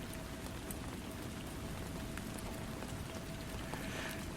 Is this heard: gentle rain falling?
yes